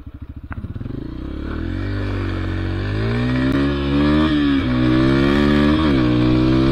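A motorcycle with a four-speed gearbox revs hard and pulls through its gears, the engine note climbing, dipping briefly at each shift, then rising again, loud and close throughout.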